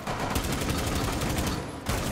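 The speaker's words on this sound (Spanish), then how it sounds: "es impresionante el disparo de cadera de este arma" Rapid automatic hip-fire from a weapon in Rainbow Six Siege, a dense, evenly spaced stream of loud shots that runs for nearly two seconds, then stops briefly before another burst.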